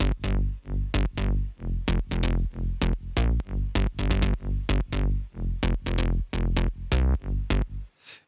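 Synth bass processed with an OTT compressor, playing a loud, dense run of punchy notes in a steady rhythm, heavily squashed and bright, alone without talk.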